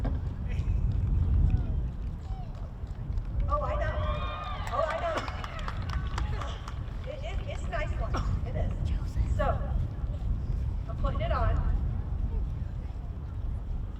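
Steady wind buffets the microphone in low rumbling gusts throughout, with a voice speaking intermittently over it outdoors.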